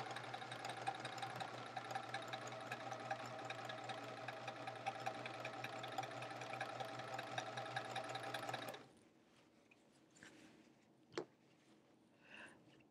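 A sewing machine chain piecing quilt fabric for a chevron quilt runs in a steady, loud, rapid stitching drone for about nine seconds, then stops abruptly, leaving quiet room sound with a couple of faint knocks and handling noises.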